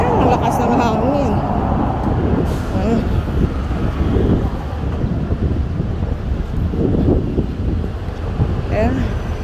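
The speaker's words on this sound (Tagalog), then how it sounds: "ang lakas ng hangin" Strong gusts buffet the microphone in a continuous low roar outdoors in a residential area near government housing, with voices talking intermittently over the wind.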